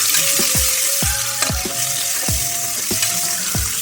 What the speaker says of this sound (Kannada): ಇವಾಗ ಇದಕ್ಕೆ 5 ಮೊಟ್ಟೆ ತಗೊಂಡಿದ್ದೀನಿ. ಇದು ಚೆನ್ನಾಗಿ ಫ್ರೈ ಮಾಡ್ಕೊಳ್ಳೋಣ.